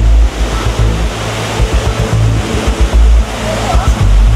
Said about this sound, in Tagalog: Ito yung falls, oh. Ayan yung falls.